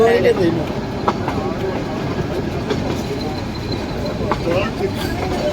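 The Ooty toy train rumbles past with a steady clatter and occasional sharp clicks, while people talk over the passing noise.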